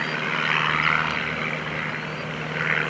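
An RV-6A homebuilt airplane at an airshow, its engine and propeller droning steadily and fairly loud throughout, a continuous broad roar with a low hum underneath and no voices.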